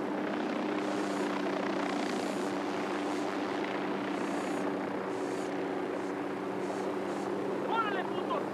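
A helicopter in the Ghost Recon Wildlands video game holds a constant, close, heavy rotor drone for the whole stretch, with voices speaking on top.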